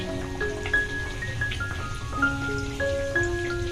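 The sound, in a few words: poa pitha batter frying in oil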